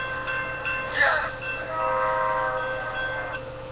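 A train sound effect plays as a sign of approval: a brief rumbling burst, then a sustained horn-like tone that holds and slowly fades.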